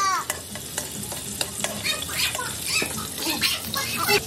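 Garlic sizzles and crackles as it sautés in melted margarine for chicken pasta, with steady frying hiss broken by stirring scrapes and occasional louder pops, close up with no talk.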